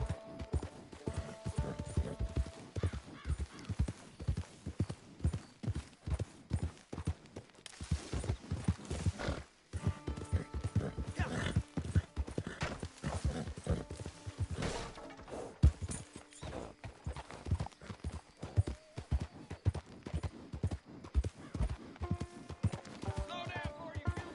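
Horse hooves clip-clop in the Red Dead Online game, a busy run of steps under near-constant talk and game sound.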